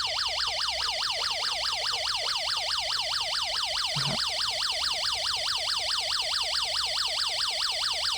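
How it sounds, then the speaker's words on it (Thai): A police-style siren generated by a UM3561 IC circuit plays through a small speaker, a rapid, steady up-and-down electronic wail repeating continuously and loudly, alone. "ก็จะมี เสียงคล้ายเสียงไซเรนรถตำรวจดังออกจากลำโพงอย่างนี้เลยนะครับ"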